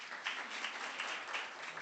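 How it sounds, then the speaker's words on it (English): Brief audience applause at a talks event, a short burst of many hands clapping at moderate volume. "Let's give her a round of applause."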